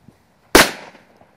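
A single sharp Xplode D-Böller firecracker blast, loud and close, bursting suddenly and then decaying over about half a second with no talk around it.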